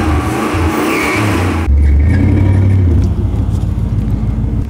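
A 1975 Chrysler New Yorker's 7.2 L V8 running on ethanol revs hard and stays on the throttle, a loud, deep, rumbling engine roar that swells sharply partway through and holds steady.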